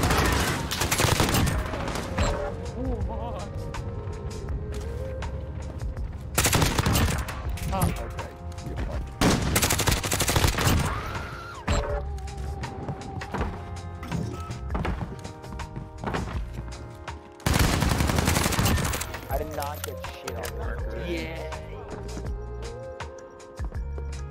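P90 submachine gun fire in a first-person shooter game, coming in several loud rapid bursts separated by quieter gaps, mixed with other game sounds and heavy, frequent background speech from players.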